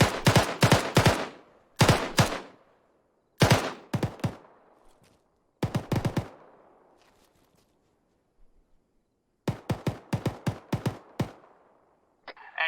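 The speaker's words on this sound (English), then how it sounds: "Hey, friendlies, you're firing on a bunker." Bursts of video game machine gun fire hammer at a bunker, loud rapid volleys in several separate strings with short silent gaps between them.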